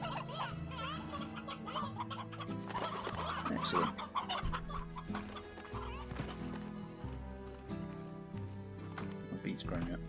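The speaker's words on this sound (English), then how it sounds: "we've got 2 roosters in there now" Game roosters in Slime Rancher cluck in short repeated bursts at moderate volume, mixed with cartoonish animal calls over a steady background music track, with a person speaking briefly.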